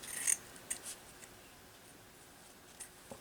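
A few quick, faint snips of scissors cut a small piece of paper for a recycled tissue-box journal, then quiet handling follows.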